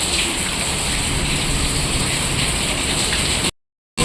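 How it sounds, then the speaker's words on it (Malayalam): Heavy rain pours down in a dense, steady roar of hissing drops, loud and close, before cutting off abruptly near the end. "ഭയങ്കര മഴ കേട്ടോ, ഭയങ്കര മഴ എന്ന് വെച്ചാൽ ഭയങ്കര മഴയാണ്"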